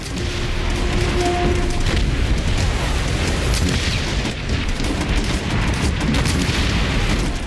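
Loud, continuous explosions and heavy booming battle noise as tanks are destroyed in the Call of Duty: World at War video game, a dense barrage with no clear pauses.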